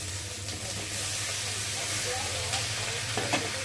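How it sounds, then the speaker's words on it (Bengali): Thinly sliced potatoes going into hot oil over fried onions, sizzling steadily up close with occasional stirring scrapes over a low constant hum. "এবার দিয়ে দেবো কেটে রাখা সরু সরু করে আলু।"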